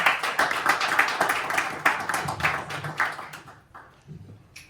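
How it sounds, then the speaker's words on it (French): Audience applause fills a conference hall, a dense patter of many hands clapping near and fairly loud, thinning out and fading toward the end as a voice briefly speaks. "On peut l'applaudir, s'il vous plaît."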